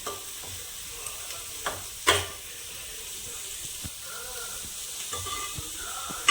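Drumstick pieces fry in a pan for a tamarind pulusu, with a steady soft sizzle and hiss, occasional stirring knocks and one sharper clatter of the spoon, close by and without speech.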